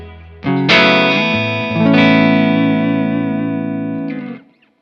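An electric guitar played through a Strymon Iridium amp modeler with hall reverb from a Strymon Big Sky rings out in sustained, gently distorted chords that bloom and trail off into a reverberant tail.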